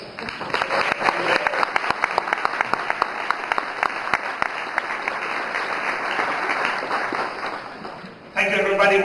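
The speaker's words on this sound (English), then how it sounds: "Please, a big round of applause for them." Conference audience at a MySQL keynote applauding, a dense sustained wash of clapping at steady loudness that cuts off sharply near the end, giving way to a different room tone.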